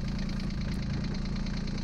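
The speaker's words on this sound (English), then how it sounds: "We first had to turn the engine on so that the oil warms up and runs smoother" A diesel engine idles while warming up its oil before an oil and fuel filter change, giving a loud, steady low rumble with an even knocking pulse from start to finish and no talking.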